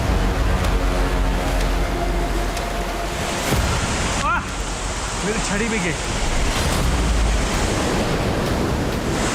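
Roaring waterfall high in the Himalayas near Kinnaur Kailash, buffeted by strong gusting wind; a dense, constant rush of water and wind noise fills the whole clip, with a man's brief speech over it partway through.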